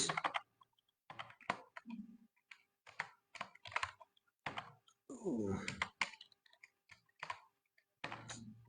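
Fingers type a folder name on a computer keyboard in a web design class, the keys clicking in short bursts between stretches of speech from a nearby speaker.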